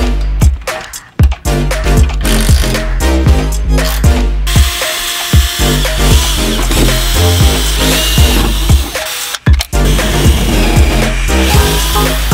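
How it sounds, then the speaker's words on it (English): Power tool cutting into a Honda S2000 chassis to fit a seat backing plate, loud and close with rapid rhythmic grinding and short pauses between bursts. "This size, I know we gotta cut the chassis a little bit."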